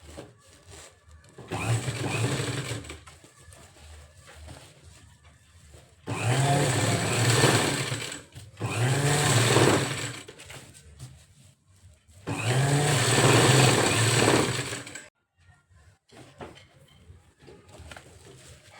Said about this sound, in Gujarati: આ રીતના આપણે પછી સિલાઈ નાખી દઈશું ફરતા ફરતા.